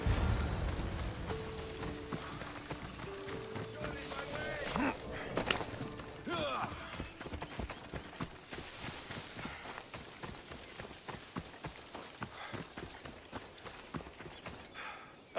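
Horse hooves in the Assassin's Creed video game during a race, a rapid galloping clip-clop rhythm that runs steadily through the clip at moderate volume, with game voices speaking over it.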